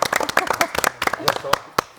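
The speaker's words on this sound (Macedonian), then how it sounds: "Еден аплауз за овие млади." A studio audience claps briefly on a TV show: a short burst of scattered hand claps mixed with a host talking over it.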